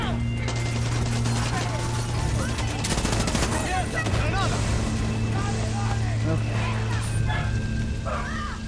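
A dog in the video game Far Cry 6 barks and yips in several quick bursts amid rattling gunfire, with engine noise and a voice underneath.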